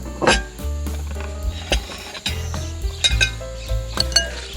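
Pomelo salad with beetle larvae being stirred and tossed in a bowl at a Kanchanaburi resort, with irregular scraping, clinks of a utensil against the bowl and occasional sharper knocks, close and moderately loud, with no talking.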